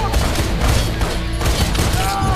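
Rapid bursts of gunfire from the video game Wanted: Weapons of Fate, dense and continuous with booming shots layered over game effects and music throughout.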